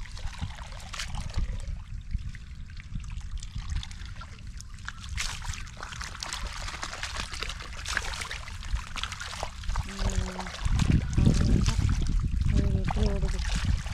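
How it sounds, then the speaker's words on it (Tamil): Rainwater drains from a flooded rice field in a steady, faint trickle and rush, with people talking over it now and then. "இவ்வளோ தண்ணி மழை தண்ணி தான்"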